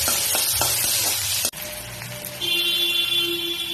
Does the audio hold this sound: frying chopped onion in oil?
yes